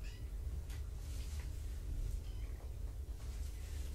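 Young kittens, recently spayed and neutered, give a few faint, thin meows indoors over a steady low room rumble.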